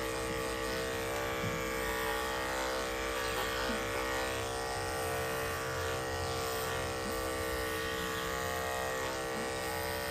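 Electric clippers buzz continuously while trace clipping a horse, a steady close, loud hum with a rich whine that barely varies over ten seconds.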